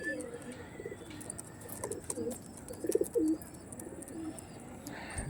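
Tournament-quality pigeons of the Akash Pukur line coo softly in a loft, a few low burbling calls rising briefly near the middle among faint background chatter and twitters.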